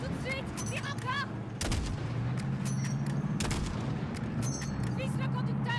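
Gunfire at a pick-up truck in Call of Duty Modern Warfare: loud, dense bursts of shots and booming impacts over a continuous battle rumble, with shouted voices in the game mix.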